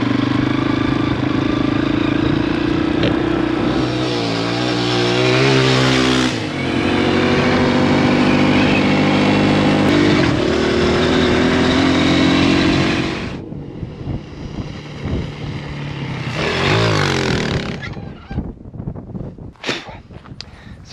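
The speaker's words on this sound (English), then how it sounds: "So hop on a motorcycle, so much easier and so much funner too." A motorcycle rides across a dry farm field between irrigation pivots, its engine droning loud and close with a steady pitch, then easing off and revving in short bursts before it slows near the end.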